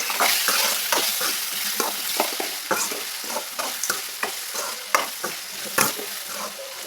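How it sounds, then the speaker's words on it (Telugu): A spoon stirs potato curry with turmeric and salt in a hot pan, scraping and clacking in a steady rhythm, about one stroke per half second, over a continuous close sizzle. "పసుపు యాడ్ చేసుకున్నాక ఇప్పుడు మనం దీన్ని బాగా కలుపుకుందాం"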